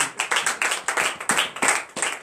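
Members of a congregation at a morning prayer service in Benin clap for Jesus in sharp, closely spaced bursts, with a loud, near and fairly rhythmic beat.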